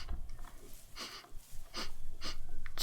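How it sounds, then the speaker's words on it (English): A character in the game Heaven's Vault sniffs at an old statue: a few short, breathy sniffs spaced about a second apart, fairly close, over a low ambient hum. "Let's give him a little sniff."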